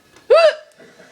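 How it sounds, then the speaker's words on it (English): A single sharp, loud hiccup bursts out close up, a brief voiced gulp with a faint breathy trail and no talk around it. "my hiccups haven't stopped"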